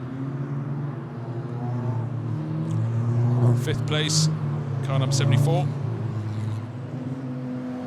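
GT4 race cars running nose to tail behind the safety car at the Red Bull Ring, their engines droning steadily with a couple of cars whooshing past up close, heard beneath continuous commentary.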